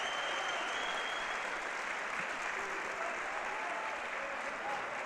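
A crowd in a judo arena at the European Judo Open in Odivelas applauds an ippon throw, a dense, even wash of clapping that holds steady throughout.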